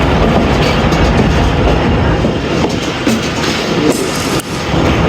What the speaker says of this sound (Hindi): यहाँ से ये ट्रेन चली जाएगी आगे कराची के लिए